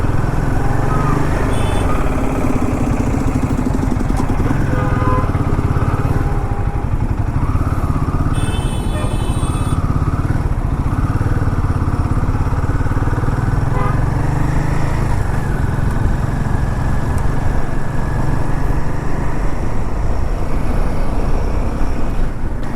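A motorcycle on a solo ride from Nellore runs on a town road, its engine a loud, continuous drone with wind buffeting throughout and a brief horn partway through.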